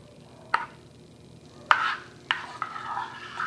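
Gelatin being stirred into lukewarm water in a bowl for a mosaic gelatin dessert, heard as a few distinct close scraping clinks from the utensil at irregular intervals, each followed by soft swishing, with no talking.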